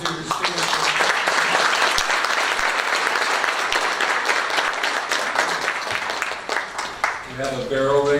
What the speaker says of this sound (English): So let's give a round of applause for our two students